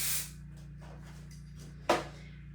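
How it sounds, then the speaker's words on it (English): A short hiss of dry shampoo spray opens, then a second quick spritz follows after a quiet pause, both close and crisp. "Es un spray súper fácil de aplicar."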